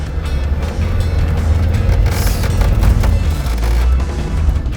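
Car engine revving hard while stuck in deep mud on an off-road track, a loud sustained low roar with surging throttle and no speech over it.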